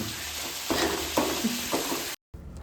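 Sliced onions sautéing in a pan for duck roast, a continuous hiss broken by a few scraping stirs, close, ending in a brief cut to silence before faint noise returns.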